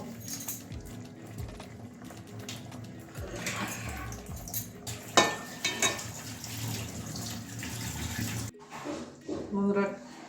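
Water splashes and runs while a metal wok (karahi) is rinsed in a home kitchen, uneven sloshing and occasional clanks of the pan, with a voice heard at moments.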